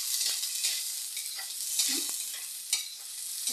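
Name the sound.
garlic frying in pan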